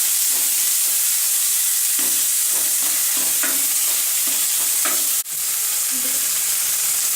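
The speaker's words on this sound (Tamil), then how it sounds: "இப்போ வெங்காயம் சேர்த்துக்கலாம். ஒரே மீடியம் சைஸ் வெங்காயம் நான் எடுத்துருக்கேன். போட்டுக்கோங்க." One medium onion sautéing in a pan for chapati kurma, a continuous loud sizzle with repeated stirring scrapes and a sharp clack partway through, no speech.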